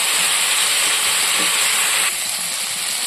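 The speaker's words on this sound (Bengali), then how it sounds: "এটাকে আমি সুন্দর করে নাড়াচাড়া করবো যতক্ষণ না ভাজা হয়" Vegetables frying in a wok as they are stirred, giving a loud, continuous hiss that drops a little partway through, with no talk over it.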